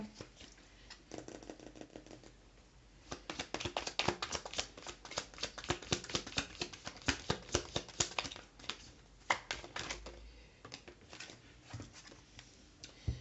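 Tarot cards are drawn and shuffled in quick, dense riffles and flicks, close and quiet, with the busiest handling in the middle stretch and no speech.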